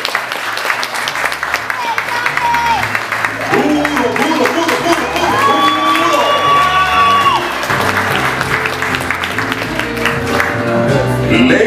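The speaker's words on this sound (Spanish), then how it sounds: "Un aplauso para Yamilet." Applause at a birthday party as a granddaughter is called up, a crowd clapping steadily throughout with some cheering, while music plays and an announcer speaks over it.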